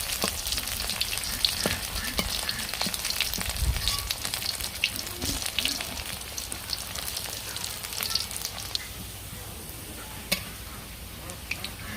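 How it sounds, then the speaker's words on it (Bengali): Pieces of spiny gourd (kakrol) fry in hot oil with a steady, close sizzle and crackle, plus occasional scraping of stirring throughout. "এভাবে লাল লাল করে ভেজে নেব।"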